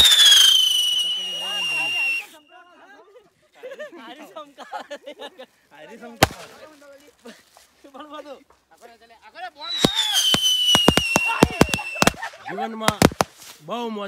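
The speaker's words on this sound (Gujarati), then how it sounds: "અને ફટાકડા પૂરા થઈ જવા છે" Diwali fireworks and firecrackers go off outdoors at night: whistling rockets at the start and again later, with sharp pops and cracks scattered throughout, while people talk in between.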